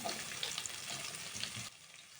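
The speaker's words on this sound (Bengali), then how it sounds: "তেলটা গরম হয়ে গেছে। প্রথমেই আমরা সজনে ডাঁটাগুলোকে দিয়ে দিচ্ছি।" Loud crackling sizzle of moringa drumsticks frying in hot oil, with stirring clatter, then the sizzle drops to a quieter hiss near the end.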